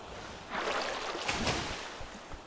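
A boat steered from the helm heading out to sea in a survival video game, with a soft, steady wash of water and hull noise swelling after a quiet start.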